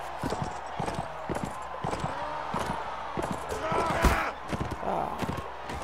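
Horse hooves clip-clopping in the medieval combat game Mount & Blade Warband, heard as a quick, steady run of hoofbeats with some battle clatter in the background.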